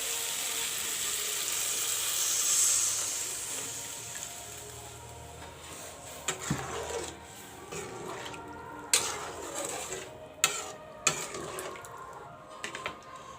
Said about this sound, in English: Now I will put some water.